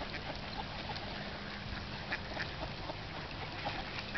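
A flock of ducks quacking continuously and fairly close beside frozen-over water, many overlapping calls forming a busy chatter with no talk.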